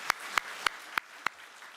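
Five distinct, evenly spaced claps at a Sunday church worship service, sharp and fairly quiet over a faint room background.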